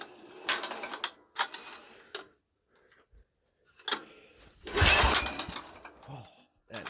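A Sears Suburban 6HP diesel engine being pull-started: several separate, rough, scraping cord yanks with short quiet gaps between them, nearby and fairly faint, and the engine never catches.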